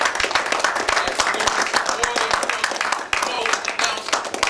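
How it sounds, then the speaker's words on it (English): Loud, dense applause and clapping from a crowd, continuous throughout with voices mixed in. "let us give Brother Darius another hearty round of applause."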